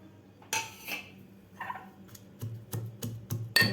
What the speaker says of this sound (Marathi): आपल्याला आलं, मिरची आणि पुदिना कुटून घ्यायचा आहे एकदम असा बारीक